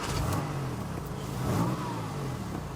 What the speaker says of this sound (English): Start it up, it even sounds a bit bland. And it doesn't. Flat 6 boxer engine.